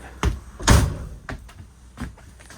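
The door of a 2022 Thor Motor Coach Four Winds 31EV fiberglass RV opens as someone steps inside, giving a few close clunks and thuds, one heavier than the rest.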